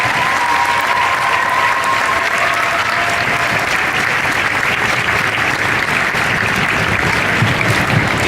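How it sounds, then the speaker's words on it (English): Audience applause fills a school winter concert hall, a steady, loud wash of clapping from a large crowd that holds for the whole stretch with no break. "Let's give them all a big round of applause."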